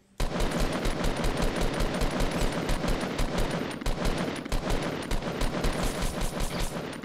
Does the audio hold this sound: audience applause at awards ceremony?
no